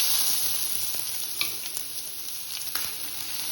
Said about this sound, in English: I had kept the pan to heat up so it is nice and hot. And to that I'm going to add my finely chopped onions.